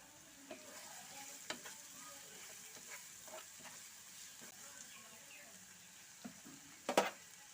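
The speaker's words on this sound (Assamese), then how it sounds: "এইখিনি অকণমান সময় ভাজি লওঁ।" Quiet sizzle of vegetables frying in a wok, with occasional clinks and scrapes of a spatula and one sharper clatter near the end.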